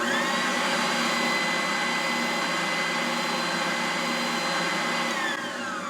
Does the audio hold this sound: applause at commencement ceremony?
no